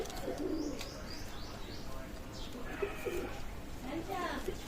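Pigeons, including Pakistani Teddy pigeons, coo softly in repeated low bursts, mixed with a few higher chirps over a faint murmuring background at a pigeon loft.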